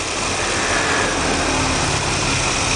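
A 1976 Chevrolet Corvette V8 with an Edelbrock air cleaner, new belts and a new alternator idles steadily, a broad continuous engine rumble heard close and without talking.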